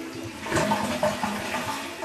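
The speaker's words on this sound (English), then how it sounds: "Now I'm gonna flush to see" Toilet flushing after its tank fill level was adjusted with a no-tools mechanism, a continuous rushing swirl of water lasting the whole stretch, close and fairly loud with no talking.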